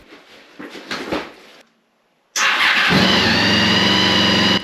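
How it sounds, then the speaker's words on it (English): A Honda VFR800 motorcycle engine cranks briefly with a few starter whirs, falls silent for a moment, then fires up into a loud, steady idle. "Let's see what the bike sounds like."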